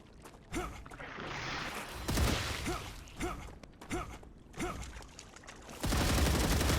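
Gunfire from the StarRupture video game aimed at a Goliath's rear weak point: about six loud, evenly spaced shots, each with a rising twang, over a busy game background that swells into a dense roar near the end.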